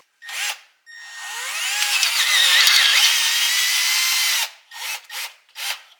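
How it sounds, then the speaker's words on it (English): A power drill whirs briefly, then grinds steadily through metal, drilling out threads on a 1978 Lincoln Continental 460 big block, for a few seconds before several short bursts of the drill end the sequence. "we're going to drill it out just a skosh more"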